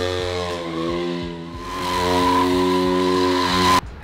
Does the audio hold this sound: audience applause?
no